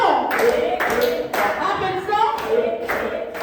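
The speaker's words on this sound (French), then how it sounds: "Applaudissons!" A congregation at a praise and worship service in Dakar claps in rhythmic bursts, sharp and loud, with voices singing or calling out over the beat.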